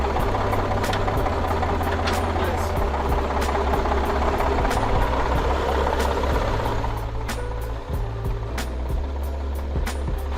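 A PistenBully snow groomer idles on an ice runway in Antarctica, its engine giving a steady low rumble with a continuous broadband roar and periodic faint clicks, sustained and close throughout.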